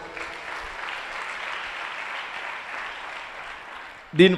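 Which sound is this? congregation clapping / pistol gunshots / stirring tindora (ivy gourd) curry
congregation clapping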